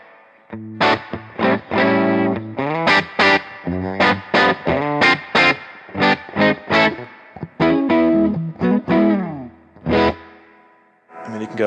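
An electric guitar played through a Hiwatt Blues Saraceno amp with a long spring reverb tank. Distorted, ringing phrases and sustained notes come in bursts with short pauses between them, and the reverb tails hang after each one.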